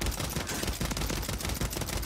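Dense, continuous automatic gunfire crackles through a Warzone fight, loud and steady with no talking over it.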